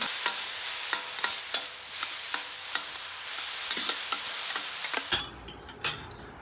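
Beef and water spinach stir-fry in a pan, a steady sizzle punctuated by regular sharp clicks and scrapes of a utensil, ending in a few louder clatters as the sizzle cuts out.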